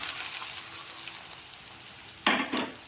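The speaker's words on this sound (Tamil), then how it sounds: "நான் கட் பண்ணி வச்சுருக்கிறேன் அந்த வரமிளகாயை போட்டுக்கிறேன் அது கூடயே வெங்காயத்தையும் போட்டுக்கிறேன்" Cut dried red chillies and onion sizzle in hot oil in a pan, a close steady frying hiss with two louder bursts of crackle near the end.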